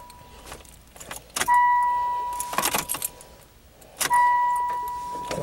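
A Ford Probe failing to start: two separate attempts bring short bursts of cranking noise, each followed by a steady electronic chime, with quiet gaps in between inside the car.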